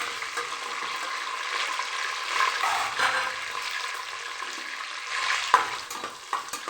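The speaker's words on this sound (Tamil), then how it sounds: "அப்படி லைட்டாக வதக்கிட்டு இது நல்லா வதங்கிடுச்சு வெங்காயம்னா" Onions and green chillies sizzling and being stirred in a pan for vegetable biryani, a steady close frying hiss with occasional scrapes of the spoon.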